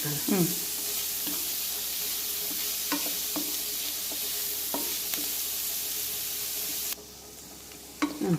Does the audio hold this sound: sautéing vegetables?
yes